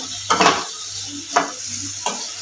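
Green onions being stirred into a sizzling tomato masala for Kathiyawadi sev-onion curry: three brisk bursts of spoon scraping and pan clatter over a steady low frying hiss, close and fairly loud with no talking.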